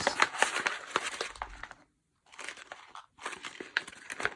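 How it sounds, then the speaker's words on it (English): A paper page from an art journal being crumpled by hand, close and crisp crinkling in bursts with a short silent pause in the middle. "For example, we could crumple it up a bit."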